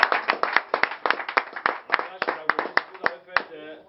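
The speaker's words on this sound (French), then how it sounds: "On va applaudir pour le monsieur." A small group at a popping dance workshop in Cameroon claps in loose, separate bursts. Individual hand claps stay distinct rather than blending into a wash, then fade out near the end.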